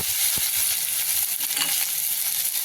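Chopped taro leaves sizzle loudly in hot oil with mustard seeds and cumin. A dense, steady frying hiss is heard up close with faint stirring, and no voices.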